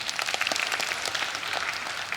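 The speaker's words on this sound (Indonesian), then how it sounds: "Yang setuju berikan tepuk tangan dong" Brief burst of clapping from a church congregation during a sermon, scattered hand claps heard up close and alone for a couple of seconds.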